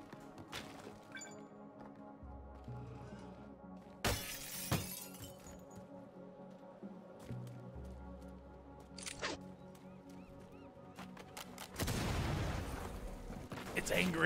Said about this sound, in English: We'll use our rocket launcher then.